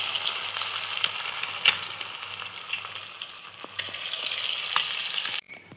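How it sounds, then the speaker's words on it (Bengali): Egg and potato fritters dropped one by one into hot oil make a bright, steady sizzle with scattered pops and spatters. The sound swells midway and then cuts off abruptly near the end, and no one speaks. "আমি এক এক করে এর মধ্যে ছেড়ে নেব। এক এক করে বড়াগুলো ভাজবো।"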